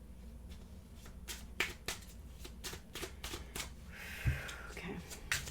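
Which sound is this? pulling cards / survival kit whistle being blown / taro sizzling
pulling cards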